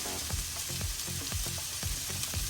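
Chicken sisig with onion cooking in a covered pan, giving a steady close sizzle with soft low bubbling pops underneath. No one speaks.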